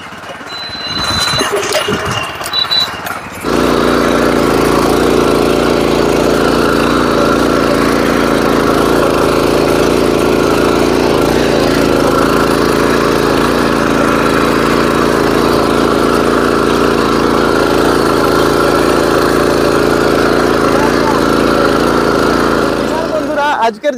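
A 7 HP engine on a Heavyator power tiller runs with a loud, steady droning rumble after a few seconds of brief knocks and handling noises at the start.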